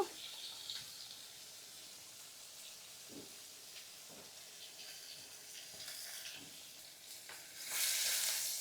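Ginger pieces frying in hot oil along with tomato pieces, a soft continuous sizzle with a few faint stirring clicks, rising to a louder hiss near the end.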